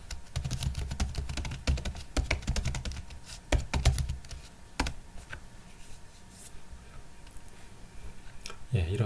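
Keyboard typing of an npm install command for a React router library, with irregular bursts of clicky keystrokes and a brief pause, close and moderately loud, alone without talk.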